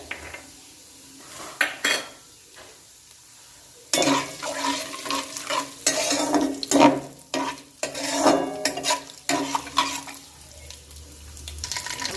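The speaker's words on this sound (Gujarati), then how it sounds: "હવે આપણી રઈ જીરું તતડવા દઈએ" Mustard and cumin seeds pop and crackle in hot oil in sharp, uneven bursts, mixed with a spoon scraping and clinking against a metal pan.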